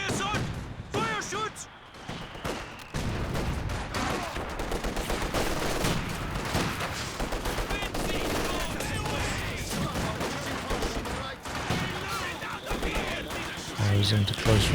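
Flak gun and mortar fire in Company of Heroes 2 bursts in dense, rapid volleys of sharp gunshots and thudding impacts, nearly continuous over the battle din, with a commentator talking throughout.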